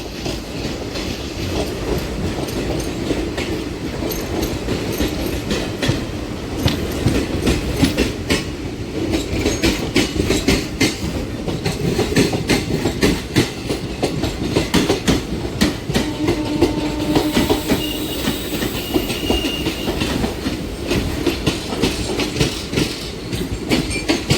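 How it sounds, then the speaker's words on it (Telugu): Two trains run in parallel, rumbling steadily along the tracks with rhythmic clattering of wheels over rail joints, loud and continuous throughout, with no talking. "బాగుంది బాగుంది ప్యారలల్గా రెండు ట్రైన్లు"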